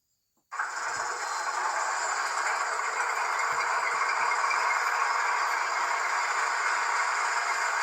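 The sound system of a Rapido HO scale U25B model diesel locomotive starts abruptly after silence and settles into a steady, continuous rumbling idle with a faint rattle.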